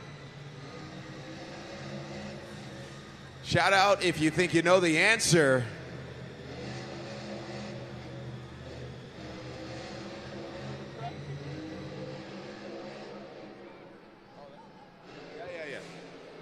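El Toro Loco, a monster truck, revs its engine in a loud snarling burst of about two seconds inside an arena. An announcer talks over a crowd before and after, and a faint second rev follows near the end.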